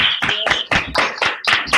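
Irregular bursts of hand clapping come through open microphones from an online conference audience, sharp and close, roughly eight claps in under two seconds.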